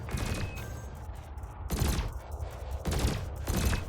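Spaceship cannon and laser weapons firing in the space combat game Elite Dangerous, four loud, heavy blasts spaced roughly a second apart over a continuous low rumble, with no voices.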